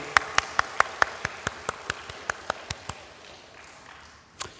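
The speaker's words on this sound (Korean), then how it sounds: "하나님께 영광의 박수 올려드리겠습니다." A church congregation at a 96th anniversary service claps in unison, about a dozen crisp, evenly spaced claps that fade before a last stray clap.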